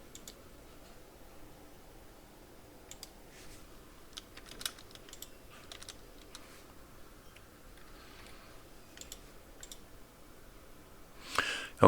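Password being typed on a computer keyboard, heard as faint, scattered key clicks in short bursts over a quiet room, ending with a slightly louder flurry of keystrokes.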